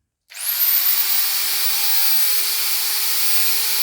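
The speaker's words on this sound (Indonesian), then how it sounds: "bor 600 watt. Oke. Saya akan hidupkan." A 600-watt electric drill switches on and runs steadily, a sharp whirring motor whine that starts abruptly after a brief silence and holds at constant loudness close by, with no voices.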